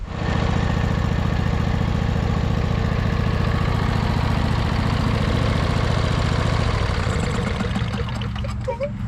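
A 23 horsepower Briggs & Stratton V-twin engine runs steadily up close, a loud continuous throbbing drone that holds even for most of the stretch and then shifts slightly near the end.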